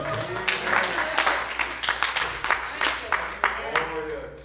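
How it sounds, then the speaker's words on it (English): A church congregation claps hands in praise during a revival service, a steady mix of many claps and crowd noise with voices and calls carrying over it. "give God a hand clap of praise"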